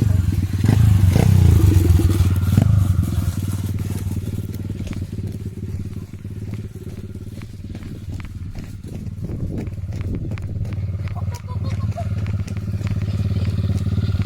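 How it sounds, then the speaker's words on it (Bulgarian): A small motorcycle engine runs steadily throughout, its low drone rising at the start, with clattering and scraping noises over it. "Кристи, вече си готов с твоя мотор и сега е ред на моя"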